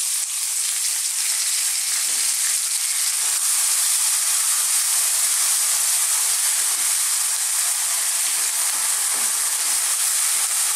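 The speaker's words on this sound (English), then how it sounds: "we just want to cook these onions and all these spices on this kind of quite high heat, just for about 2 minutes" Onions, garlic ginger paste and spices frying in a pan over fairly high heat for a dal, giving a steady, loud, continuous sizzle with faint stirring scrapes and no talk.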